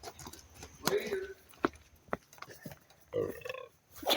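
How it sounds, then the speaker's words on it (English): A short, low burp sounds close by amid casual chatter and scattered handling noises outdoors, with voices talking around it. "That burp."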